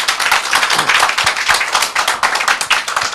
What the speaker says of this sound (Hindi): जो यहाँ पे बैठे हैं एक बार प्रभु के लिए ताली बजा देंगे।